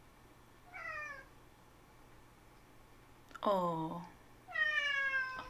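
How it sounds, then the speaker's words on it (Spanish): A cat meows three times from close by, each call clear and drawn out, with the third rising loudest, over faint game music and a brief spoken word. "Aquí mi gato."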